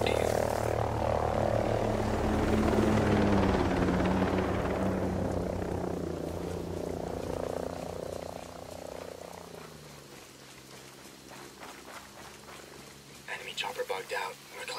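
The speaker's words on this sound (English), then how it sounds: "Enemy chopper in the AO." An enemy helicopter in Ghost Recon Breakpoint thrums loudly overhead with a steady rotor drone, then fades into the distance as the game's soundscape continues.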